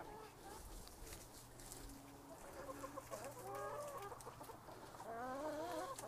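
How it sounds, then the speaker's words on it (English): Chickens cluck and chatter close by in a farmyard, with repeated short rising calls and soft murmuring clucks layered over a low steady hum, fairly quiet overall. "let's take one last look at the chickens"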